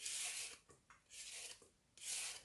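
Carrots grated by hand on a grater for gajar ka halva, three long rasping strokes with short pauses between them, close and fairly quiet with no talking.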